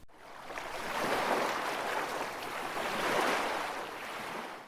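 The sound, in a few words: sea waves lapping against a boat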